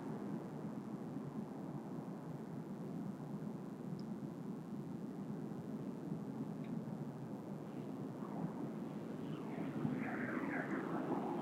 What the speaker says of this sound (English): Now if you listen, you'll hear those wing vortexes.